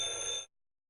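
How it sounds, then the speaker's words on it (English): A telephone rings in a short, bright electronic burst of about half a second, then cuts off abruptly into silence. "is that the bat phone ringing?"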